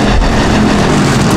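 Sportsman race cars roar around the dirt oval at Rapid Speedway, a loud, dense, continuous engine blast filling a short burst with no talking.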